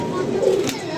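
A pigeon being held in the hand gives a short, close coo that rises and falls in under a second, with a voice nearby.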